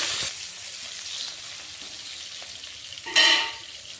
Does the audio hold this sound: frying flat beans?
yes